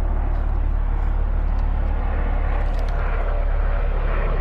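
An airplane flies overhead with a steady, continuous engine roar throughout, loud and unbroken, with no speech over it.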